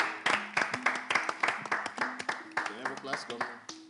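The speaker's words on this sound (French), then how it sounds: "On les applaudit" A small group claps in quick, steady rhythm to welcome children at an event, close and fairly loud, with voices talking underneath the clapping.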